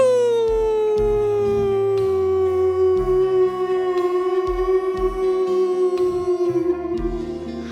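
A long sustained howl slides slowly downward and holds, loud and clear over a rhythmic, stepping low backing that pulses underneath.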